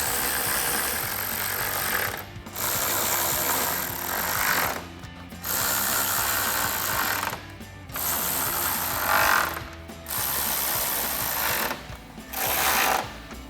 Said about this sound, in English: we'll tighten those down with that same 10mm socket.